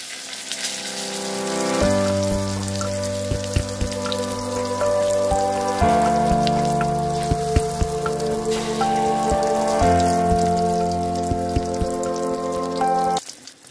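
Eggplants stuffed with egg fry in a pan with a continuous crackling sizzle, under a steady background of sustained musical tones that shift every few seconds.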